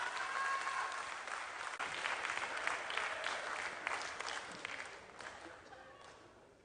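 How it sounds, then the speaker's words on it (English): An audience at an awards ceremony claps in sustained, dense applause that gradually fades, with a voice speaking over it. "let's give them another round of applause"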